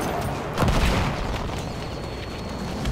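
Battlefield 1 gunfire on the Sinai Desert conquest map: a heavy burst of shots and booms early on, then scattered distant firing under constant battle noise.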